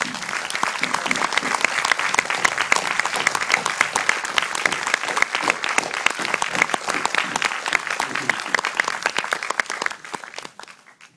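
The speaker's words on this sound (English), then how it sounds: "I'd like to finally end just by making you all give yourselves one last round of applause." An audience at a film Q&A in a media museum applauds warmly for about ten seconds, a dense, steady crowd of clapping hands that tapers off quickly at the end.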